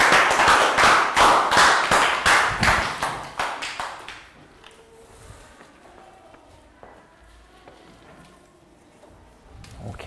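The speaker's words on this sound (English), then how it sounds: "Round of applause." Children in a primary-school English classroom clap together for about four seconds, a dense run of loud, rhythmic claps that fades out, leaving quiet room noise with faint taps and movement.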